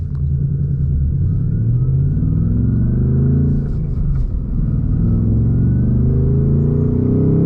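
A 2026 Ford Mustang GT V8 with a manual gearbox rumbles while driving, a deep, loud, continuous engine drone with rising and falling pitch as it revs and shifts, heard from inside the car with no talking.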